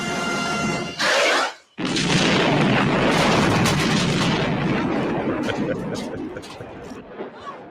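A grenade launcher fires in the film Aliens, delivering heavy booming blasts that fill most of the stretch. Film dialogue or shouting breaks in among the loud detonations.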